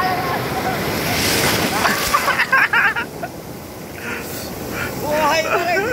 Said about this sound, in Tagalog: Ang malakas na alon!